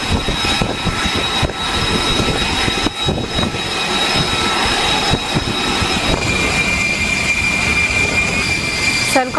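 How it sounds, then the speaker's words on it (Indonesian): An F-35B stealth fighter jet prepares to take off from the deck of the USS Boxer in the Arabian Sea, its engine a loud, continuous roar with a steady high whine throughout. "persiapan jet tempur siluman F-35B yang akan lepas landas di atas kapal USS Boxer di Laut Arab"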